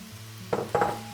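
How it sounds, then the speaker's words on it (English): Vegetables tossed back into a hot pan with olive oil, two quick close scraping clatters over a low hum, then a brief sizzle. "I'm gonna chuck all the veggies back in"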